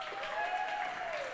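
An audience at a lunch-and-learn talk on Morse code claps to welcome lecturer Bob Finger. The applause is dense, steady and sustained across the whole moment, and the room sounds full and fairly close.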